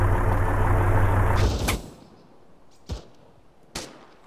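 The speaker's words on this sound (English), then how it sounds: "I hear shots." Gunshots in a military video game: a loud rumble of engine or vehicle noise cuts off, then three sharp, separate shots sound at moderate distance with quiet between them.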